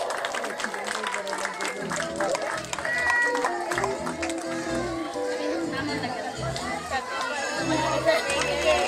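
Applause from an audience at a family day event at a children's development centre, continuous and steady, mixed with crowd chatter and children's voices talking over it.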